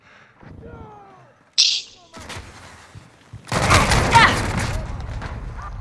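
Gunfire bursts in Call of Duty Modern Warfare 2019, hardcore Kill Confirmed on the Atlas Superstore map, loud sharp shots and a dense rapid volley near the end, with players talking over the action.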